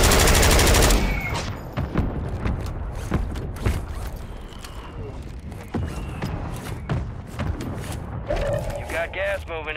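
Mortar strike in Call of Duty Warzone: a rapid series of sharp, loud blasts and impacts, some overlapping like scattered gunfire, with thuds and rumbling in between, over a dense battlefield background.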